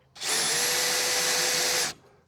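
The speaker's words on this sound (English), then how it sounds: "You just put that piece in the drill chuck, put it in, and you can see it lifts the trailer up, no problem." A power drill cranks a trailer jack with one loud continuous whine of about two seconds, starting and stopping abruptly, with no voices over it.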